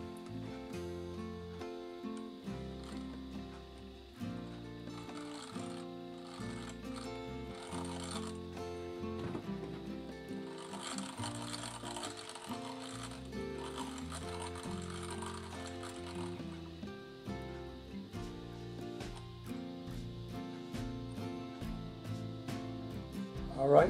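A gem faceting machine turns and grinds while rounding a synthetic ruby set at 90 degrees, giving a continuous, quiet mechanical whir with ratcheting, clicking textures and small irregular knocks throughout.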